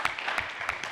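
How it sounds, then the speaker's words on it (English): Brief applause from a conference audience for an organizing team, a short burst of scattered claps at moderate level. "we need to give, some applause for the organizing team."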